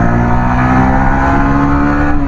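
A Honda Winner X 150 motorcycle engine revs hard toward its 10,500 RPM limit, producing a steady, loud, high-pitched buzzing drone heard up close with no talking.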